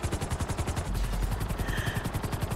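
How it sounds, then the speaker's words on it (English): A helicopter takes off in Grand Theft Auto V, its rotor beating in a rapid, steady chop that stays loud and close with no talk. "He just takes off in his helicopter."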